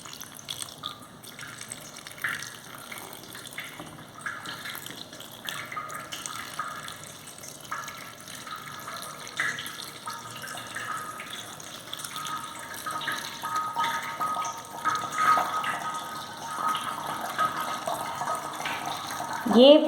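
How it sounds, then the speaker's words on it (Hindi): Water trickling and dripping through a traditional three-layer filter into a collection chamber below, a steady soft splashing that grows a little louder toward the end, with some faint background noise. "ये पानी इन 3 लेयर से फिल्टर होते हुए, छनते हुए नीचे के कलेक्शन चैम्बर में"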